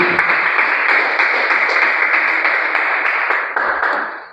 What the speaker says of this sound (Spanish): Ese aplauso como que fue muy aguado como para el Señor, ¿eh?